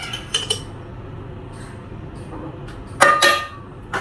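A metal spoon scoops coffee into a cup, giving a few light clinks early and a brighter cluster of metallic chinks near the end, close and otherwise quiet.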